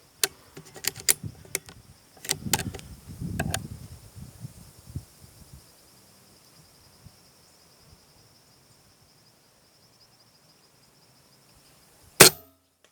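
Several sharp, faint snaps of air-rifle pellets striking a target 100 metres away early on, then quiet with insects chirping, and one loud close shot near the end.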